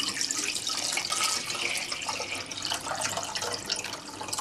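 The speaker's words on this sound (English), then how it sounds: "Okay, you put some water into this pot." Water from a kitchen tap pours steadily into a medium-sized pot, a continuous close splashing rush with no talking.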